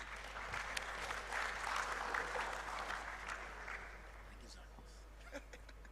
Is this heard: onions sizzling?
no